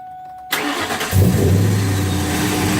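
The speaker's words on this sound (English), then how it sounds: "I want you to start the car." A manual-transmission car engine cranks and catches, turning over briefly and then settling into a steady, loud idle close by after a quiet start.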